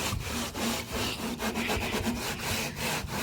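A bucket is scrubbed with a scrubber made of vines, producing brisk, rhythmic rasping strokes that repeat close up and fairly loud with no talking.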